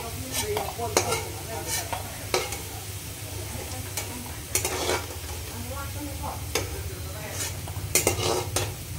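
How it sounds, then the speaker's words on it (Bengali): Potatoes fry in a pan with a continuous low sizzle, punctuated by repeated bright clanks and scrapes of a spatula stirring against the metal. "আলুটা ভাজা হয়ে গিয়েছে। কত সুন্দর কালার এসেছে দেখো।"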